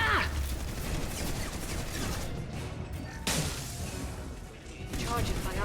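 A big gun fires in Mass Effect Legendary Edition, loud crashing volleys with whooshes and mechanical clatter filling the mix, while a voice talks underneath.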